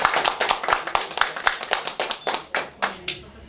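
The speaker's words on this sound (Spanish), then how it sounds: "Solamente me resta decirles un aplauso." An audience claps at a court ceremony launching a new computer application: a burst of close, crisp handclaps that starts dense and thins into scattered claps before fading out.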